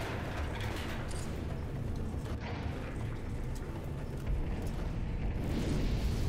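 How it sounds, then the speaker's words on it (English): A bomb goes off in Halo 3 as a deep, sustained rumbling roar with heavy low-end that swells and grows louder toward the end, steady and loud throughout with no speech. "there goes the bomb"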